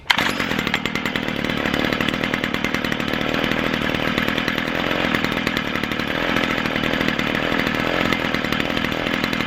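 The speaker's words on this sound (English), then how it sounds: "Alright, the trimmer is running." A Stihl FS55 string trimmer, just repaired with a new primer bulb, fires up and keeps running at a steady, loud two-stroke idle close by, with a continuous buzzing drone and no talking.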